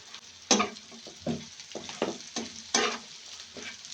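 Fish fries in a pan, its sizzle close by and punctuated by a series of sharp, irregular bursts of crackling and spattering, with no voices.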